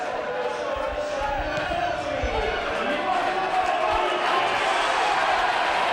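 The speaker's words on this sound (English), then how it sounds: "that has got the crowd going" A large football crowd roars continuously at a Stockport County versus Bolton Wanderers match just after Stockport's second goal, a dense, loud wall of cheering and chanting with occasional thumps and shouts rising out of it.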